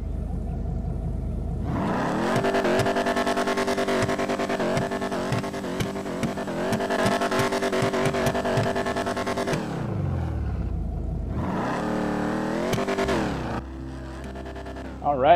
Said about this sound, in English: let's check out this engine sound